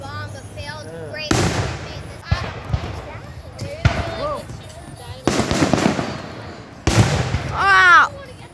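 Fourth of July fireworks burst in a string of sharp, loud explosive bangs over several seconds. Excited voices shout and exclaim between and over the blasts.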